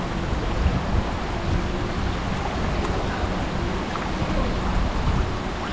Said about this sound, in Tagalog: Yan na yung ilog na malakas ang agos.